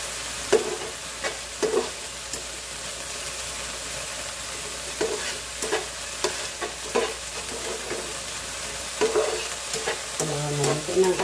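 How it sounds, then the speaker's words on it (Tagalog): Shredded cabbage sizzling steadily in a hot pan, with repeated scrapes and clacks of a utensil stirring it throughout, close and moderately loud with no talking. "Madali lang lutuin ang ating cabbage."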